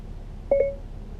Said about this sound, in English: Once you hear Siri's normal tone